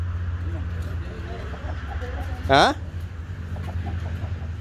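A single loud rooster call cuts in briefly over a low engine-like hum, with faint clucks and a short spoken interjection nearby.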